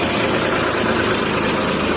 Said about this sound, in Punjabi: 747 ਆ ਗਿਆ ਸਵਰਾਜ